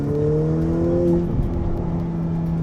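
A Ferrari F8 Tributo's twin-turbo V8 pulling hard at 70% throttle, a loud, steady droning roar with a rising engine tone that shifts partway through, heard from inside the car.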